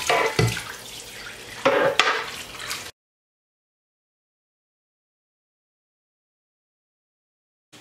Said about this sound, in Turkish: Şöyle bir yıkayıp bakalım, kontrol edelim.